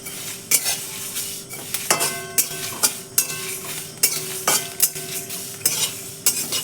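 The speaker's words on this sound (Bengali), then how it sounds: "এবার আমগুলো একটা একটা করে ভাজবো" Mango pieces, coated in turmeric and salt, frying in mustard oil for pickle, with a steady sizzle broken by repeated sharp clinks of a utensil against the pan at an uneven rhythm, close and fairly loud.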